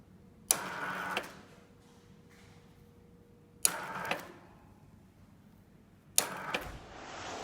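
A Stafer tubular roller shutter motor runs in three separate bursts, each starting with a sharp click and a grinding mechanical whir lasting about a second, then trailing off into a low steady hum between runs, close and moderately loud.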